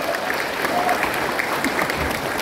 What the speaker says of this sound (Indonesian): Tepuk tangan buat Sekjen dan kita.